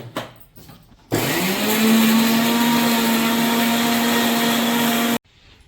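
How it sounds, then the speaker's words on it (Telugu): A kitchen mixer grinder whirs loudly and steadily for about four seconds while grinding onions into paste, starting abruptly and cutting off sharply, with faint handling noises before it. "మిక్సీ పడుతున్నా ఆనియన్స్."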